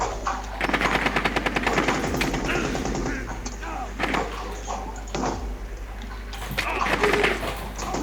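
Automatic gunfire from a Rainbow Six Siege match, rapid bursts of rattling shots in several volleys, fairly loud and close, with game ambience between the bursts and no speech.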